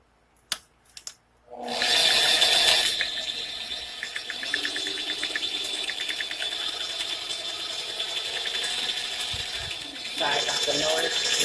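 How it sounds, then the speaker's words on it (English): An electric stand mixer churns hamburger meat for meatloaf, a steady mechanical whirring and clicking that starts after a few opening knocks and runs continuously, with a voice speaking over it. "I'm mixing it inside of my mixer because I don't feel like mixing it with my hands"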